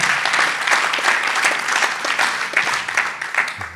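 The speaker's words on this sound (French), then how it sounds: "On peut les applaudir." Sustained audience applause at a congress round table, dense and even clapping from a sizeable crowd throughout, close and loud with no talking over it.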